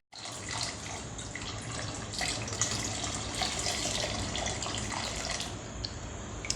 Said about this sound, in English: I will be adding a boiled water into the mixture.